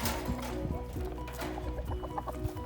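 A rooster clucks in short repeated bursts near the microphone, the low chopped calls coming one after another over a steady farmyard background.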